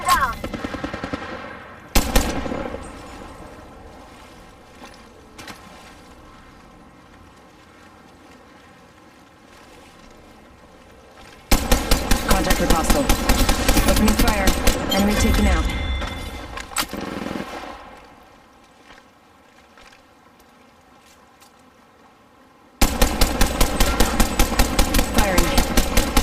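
Gunfire in the mobile battle royale game Apex Legends Mobile, with long loud bursts of rapid automatic fire separated by quieter stretches of ambient game sound.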